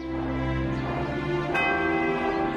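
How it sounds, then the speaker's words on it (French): A giant bell in a bell tower gives one rich, resonant clang with deep sustained humming overtones that ring on steadily without fading. "le premier tintement de la cloche géante retentit dans tout le pays"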